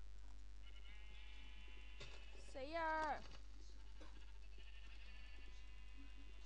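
A single wavering Minecraft sheep bleat from the video game stands out loud in the middle, after a brief shout and with quieter game noise and talk around it.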